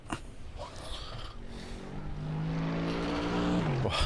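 A race car engine in the iRacing sim revs and builds to a loud, steady high-pitched drone with rising harmonics, dropping off sharply right at the end.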